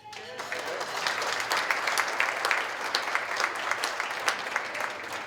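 An audience at the Fire & Ice Gala of the Falls Church Chamber of Commerce claps steadily, a dense, moderately distant patter of many hands that continues without a break.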